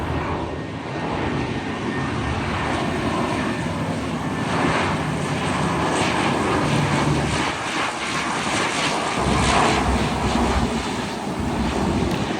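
A grey French Air Force C-130H-30 turboprop departs Tan Son Nhat airport, its engines roaring in a broad, sustained drone that swells and holds steadily loud and near throughout, with no talking.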